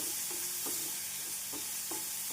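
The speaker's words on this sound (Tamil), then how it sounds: "வெங்காயத்தை நன்றாக வதக்கி விடலாம்." Quiet, even sizzle of onions frying in oil, with a few soft scrapes and clinks from stirring; no one speaks.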